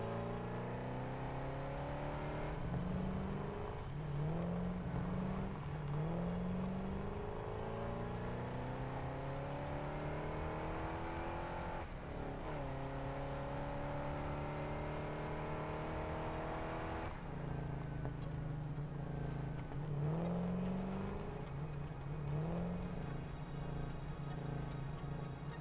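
A vehicle driven in the Satisfactory video game, its engine whirring and revving steadily with repeated rising pitch sweeps as it accelerates and shifts, continuous and close throughout.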